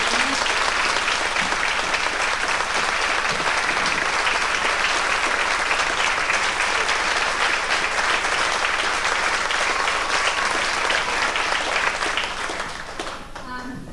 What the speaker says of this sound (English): a big clap for John, who's held the whole show together